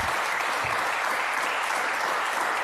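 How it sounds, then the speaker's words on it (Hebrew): Dense, steady applause from an audience at an Israeli event honoring a wounded soldier, a continuous wash of many hands clapping that stays even and loud throughout, with no voices on top. "לא צריך כל כך כפיים"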